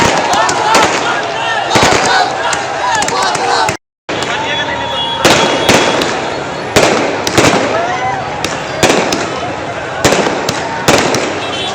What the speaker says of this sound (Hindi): अल्बर्ट एक्का चौक पर युवाओं ने जमकर आतिशबाजी की